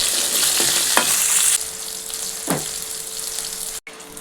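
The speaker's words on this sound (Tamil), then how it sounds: "பூண்டு 4 பல்லு போட்டுக்கலாம். இதை நல்லா வதக்கிக்கோங்க." Garlic cloves frying in a pan, giving a bright continuous sizzle close by, with a couple of scraping strokes from stirring and a brief drop to near silence just before the end.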